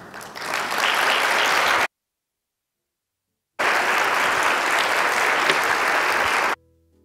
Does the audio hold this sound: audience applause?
yes